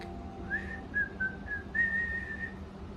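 A person whistles a short, wavering tune, a few sliding notes close and clear against quiet background hum.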